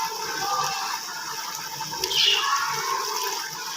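Vegetable vinegar, about two tablespoons, pours into a pot of achari pulao with a soft, steady watery trickle and a faint gush partway through, fairly quiet.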